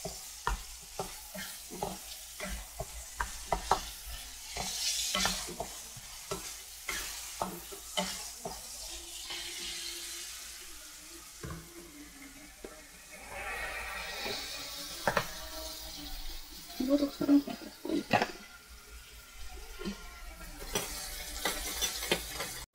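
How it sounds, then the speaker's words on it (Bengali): Chopped onion frying in oil over medium heat in a home kitchen sizzles softly. Frequent sharp scrapes and taps of a spatula stir it, with irregular bursts of clatter over a quieter hiss. "এই যে পেঁয়াজ কুচি দিয়ে দিয়েছি তেলের মধ্যে। তারপরে এই যে নাড়া দিচ্ছি পেঁয়াজটাকে।"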